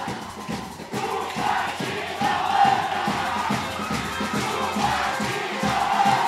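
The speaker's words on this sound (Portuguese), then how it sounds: "A torcida vai ovacionando aqui da Onense." Football supporters in a stadium crowd at a 2023 Mato Grosso do Sul state championship match, CREC versus Aquidauanense, sending up a steady, dense roar of cheering and chanting that swells slightly and holds loud throughout.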